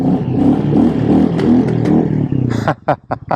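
A Royal Enfield Classic 350 motorcycle engine roars loudly through its exhaust at steady revs, then drops off into a few sharp blips and pops of the throttle near the end.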